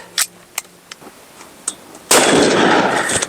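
Several sharp, separate cracks from a pistol fired at homemade armor, followed by one loud, close blast that leaves a dense roar hanging for over a second.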